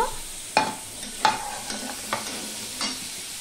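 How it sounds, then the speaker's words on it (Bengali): Potato and carrot pieces frying in a little oil in a pan, with a low background sizzle broken by about five distinct scraping stirs of a spatula at irregular intervals, close and fairly clear, no talking. "এবারে আমি আলু আর গাজরটাও ভেজে নেব"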